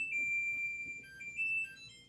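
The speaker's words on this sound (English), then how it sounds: "There's the timer." An oven timer going off in a home kitchen while salmon and vegetables cook, a steady high electronic tone beeping in sustained bursts with short breaks, fairly loud over a low background hum.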